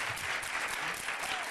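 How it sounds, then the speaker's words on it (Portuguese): An audience claps steadily throughout a Brazilian discussion program on digital inclusion, even and sustained at moderate distance, with no voices standing out. "Olha, vocês vão aplaudir"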